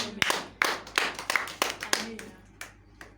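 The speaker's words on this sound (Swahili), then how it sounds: "Mpigie Yesu makofi." A church congregation claps for Jesus, a burst of several loud, uneven handclaps close and sharp, tapering off over a few seconds with voices in the background.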